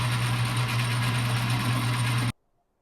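Steel bicycle fork crown race being faced by a machine in a workshop: a steady, humming motor drone with a fine scraping texture, running loud then cutting off abruptly into near silence.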